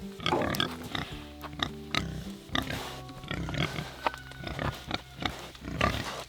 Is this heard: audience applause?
no